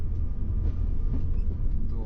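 A tram rumbles past at low pitch, a brief heavy rolling sound with faint background noise.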